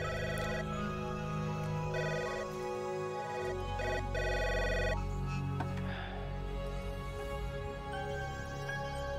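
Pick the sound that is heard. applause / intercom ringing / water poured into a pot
intercom ringing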